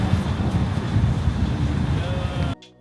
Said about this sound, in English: it is windy as hell out right now